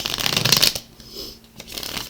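Tarot cards being shuffled by hand, a dense papery riffling that is loud and close for most of the stretch, then briefer softer rustles after a pause.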